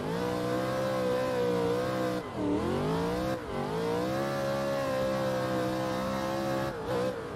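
A BMW race car engine in a track racing video game revs steadily at high pitch, its whine holding, dipping briefly twice as the car shifts or lifts off, then climbing again, loud and continuous with no talking.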